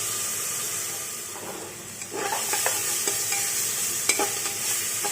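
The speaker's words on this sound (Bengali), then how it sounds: "লবণ দিয়ে কিছুক্ষণ নাড়লেই পেঁয়াজটা নরম হয়ে যাবে।" Onions stirred and fried with salt in a pan, a steady frying sizzle with scattered scraping clicks of the spoon from the middle onward, close and continuous.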